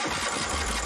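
Small engine from an abandoned lawnmower, set up for a mowkart, being cranked without catching. A steady, close mechanical churning with low rumble runs throughout the short moment, and no clean firing pulses emerge.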